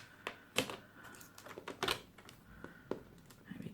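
Cardstock being cut down for a handmade card, a few sharp clicks and brief snipping or trimmer strokes spaced irregularly, close but quiet, no talking.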